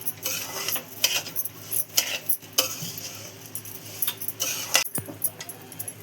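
Masala roasts with sugar in a pan over a slow gas flame for Mumbai-style Aflatoon mithai, with irregular spatula scrapes and metallic clinks up close and a soft sizzle beneath.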